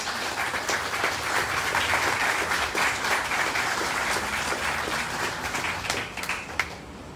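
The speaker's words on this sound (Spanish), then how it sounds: "si le damos un aplauso por favor" An audience at a political activity report event in Mexico gives a senator a sustained round of applause, many hands clapping in a steady dense roar for about seven seconds before easing off.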